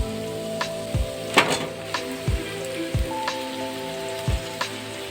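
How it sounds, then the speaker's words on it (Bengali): Chow mein noodles go into a hot frying pan with a steady low sizzle, punctuated by evenly spaced dull thuds and scrapes roughly every second, close by and with no talking. "এরপর আমি এর মধ্যে চাউমিনটা অ্যাড করে দেবো"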